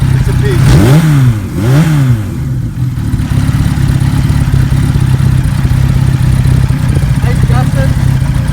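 A 1976 Kawasaki KZ900 Turbo motorcycle revs hard twice in quick succession, each sharp rising-and-falling engine sweep close and loud, then settles into a steady rumbling idle.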